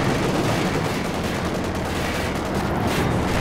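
M20 armored car gunfire cutting down a sniper in Company of Heroes 2, a dense, loud wash of shots and battle rumble that holds steady throughout.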